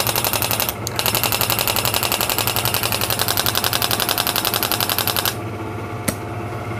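A Japanese air-powered reciprocating saw, fed by an air compressor, runs in a loud, rapid machine-gun-like chatter for about five seconds, stops briefly near the start, then cuts off, leaving a quieter hiss and one sharp click.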